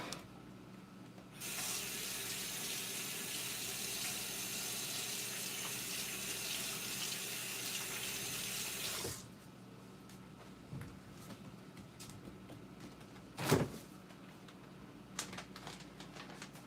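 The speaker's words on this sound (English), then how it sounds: "About to wash my hands." Tap water runs into a sink for hands being washed, a steady close rushing stream that starts abruptly and stops after about eight seconds, followed by quiet room noise and a brief knock.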